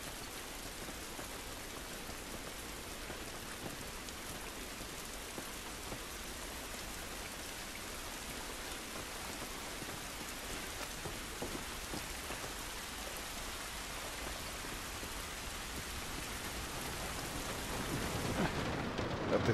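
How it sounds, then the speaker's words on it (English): Steady rain pours throughout a rainy outdoor scene in The Last of Us, a dense even hiss of drops on surfaces that swells slightly louder near the end, with no talking. "This rain ain't gonna do us any good."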